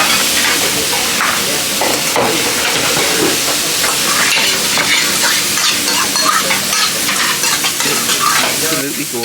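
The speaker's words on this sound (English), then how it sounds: "So it's prawns and vegetable stir fry." Prawns and vegetables stir-frying in a pan, a loud, steady sizzle and crackle with stirring scrapes running throughout without a break.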